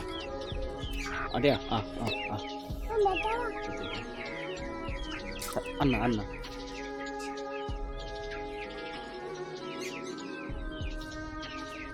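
Desi and tiger chickens peep and cluck close by as they eat. The chirps are bright and clustered in the first half and fade to scattered calls. A person speaks briefly over them.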